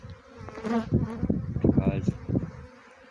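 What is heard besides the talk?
honey bee swarm buzzing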